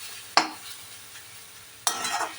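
Snake gourd frying in a pan with salt and turmeric, with two sharp stirring scrapes and clatters over a soft, steady sizzle; no talking.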